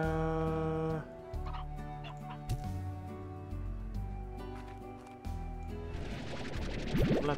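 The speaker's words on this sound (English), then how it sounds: "Let me get all the chicken first." Chickens cluck and gobble repeatedly in the Slime Rancher video game, layered over tonal game music and other in-game effects, with busier bird calls toward the end.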